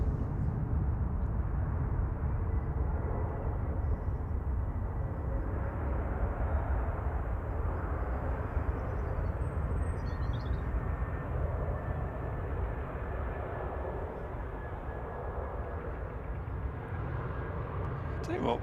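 A Ryanair airliner rumbles down the runway on its takeoff roll at Manchester Airport, a steady low engine roar heard from a distance and holding evenly throughout, with voices chatting over it.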